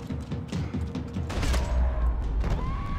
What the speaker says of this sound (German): Oh, das war ein schöner Schuss.